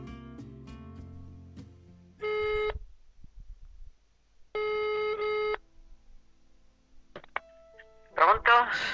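An Italian landline telephone ringing before a call is picked up: two long electronic ring bursts separated by quiet, then a click and beeps as the line opens and a voice begins speaking.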